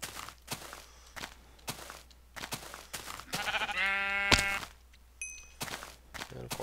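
A sheep bleating in the video game Minecraft, one clear wavering bleat in the middle, surrounded by regular crunchy footsteps and a faint buzzing insect, with no talking.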